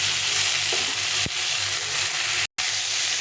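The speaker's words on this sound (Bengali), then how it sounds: "হালকা করে একটু ভেজে নিলাম" Ridge gourd frying lightly in a pan gives a steady, close sizzle with faint stirring scrapes and one sharp knock against the pan partway through; no voices.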